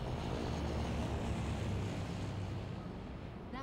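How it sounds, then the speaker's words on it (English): A C-130 propeller airplane flies overhead in Left 4 Dead 2, a loud steady droning roar of engines and airscrews that fills the whole stretch, then eases slightly at the end. "That plane's headed right for the airport."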